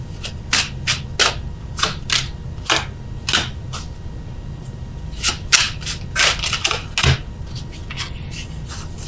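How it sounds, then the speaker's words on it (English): Tarot cards are handled, shuffled and laid down on a surface in a run of crisp, close snaps and slaps, irregular and fairly loud, with no talking over them. "I just feel like getting the cards down for you guys first."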